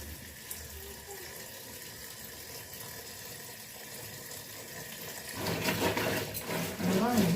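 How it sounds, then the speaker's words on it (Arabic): Tap water runs over crabs as they are washed in a sink, starting as a low background trickle and then growing into a louder, splashing gush near the end. "هنزل عليها الميه"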